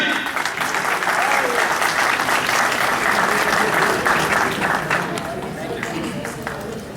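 Audience applause for a keyboard player at a tribute concert: dense, steady clapping fills the whole stretch and eases slightly near the end, with a voice speaking over it.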